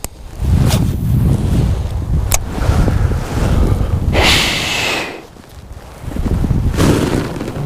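Strong wind buffets the microphone outdoors during a cold day of fishing on open water, roaring in loud gusts with a short lull near the end and faint water sounds beneath.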